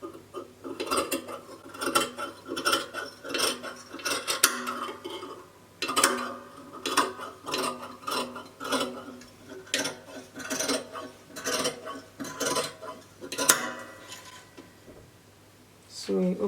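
Scissors cutting dashiki dress fabric produce a series of crisp snips and rustles of cloth, irregular and close, continuing with brief pauses throughout.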